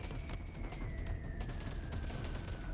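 Automatic gunfire in the VR shooter Boneworks, rapid repeated shots rattling at a moderate distance, fairly quiet and continuous, with no speech.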